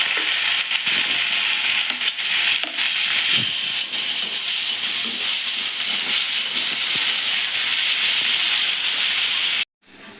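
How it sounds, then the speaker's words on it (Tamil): Onions and fennel sizzling in hot oil, a steady loud broadband hiss that runs continuously without pause, then cuts out abruptly near the end. "இப்போ அந்த மசாலா ஐட்டம்லாம் போட்டுக்கிறேன் உடனே வெங்காயம் போட்டுருங்க"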